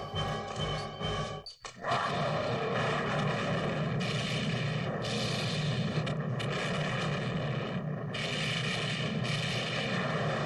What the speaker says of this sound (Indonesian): Tak lama dari itu, terdengar suara ledakan.